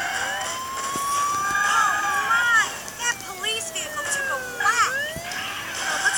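A police siren in the mobile game Smash Bandits wails and sweeps up and down repeatedly, close and loud, with game engine and crash noises mixed in behind it.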